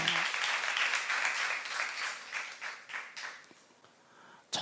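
A church congregation claps together at a youth-group sermon, steady dense applause that gradually thins and fades over a few seconds with no talking over it.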